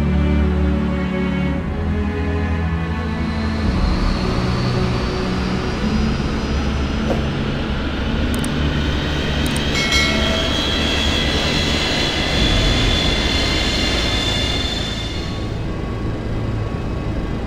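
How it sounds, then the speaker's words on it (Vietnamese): The engines of Aerosucre flight 157, a cargo airplane bound for Bogota, start up and spool, a loud sustained roar that rises into a whining jet tone and holds before easing near the end, with no speech. "chuyến bay 157 bắt đầu khởi động để quay về Bogota"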